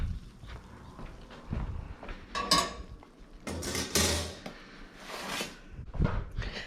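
Metal clanks, scrapes and clinks as a freshly baked pizza is pulled from an Ooni Koda 12 gas pizza oven, with irregular knocks and louder rattles near the middle, fairly close.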